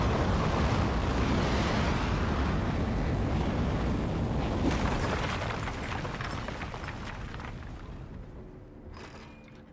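Rocket liftoff in the video game Aperture Desk Job: a loud, continuous broadband roar that rumbles steadily, then thins and fades over the last few seconds.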